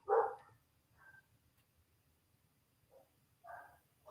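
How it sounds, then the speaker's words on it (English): A dog nearby in a quiet room lets out a loud bark, then a few softer, shorter barks and yips spaced over several seconds. "We'll let him get his barks out."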